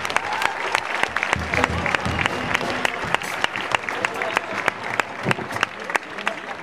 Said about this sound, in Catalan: això és un aplaudiment